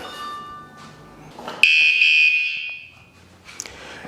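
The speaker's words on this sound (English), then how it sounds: "And if I try to move it again, the alarm is going to go off." A motorcycle security alarm armed with a key fob sounds when the bike is moved: a loud, steady high-pitched electronic tone rings for about a second and a half, then fades, with a brief short chirp afterward.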